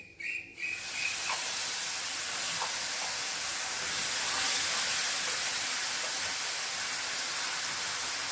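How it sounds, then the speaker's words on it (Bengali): Nigella seeds hit hot oil and burst into a loud, hissing sizzle after a brief moment, then hold as a steady broadband fizz that continues without any talking. "এখন আমি একটু কালো জিরে ফোড়ন দেবো"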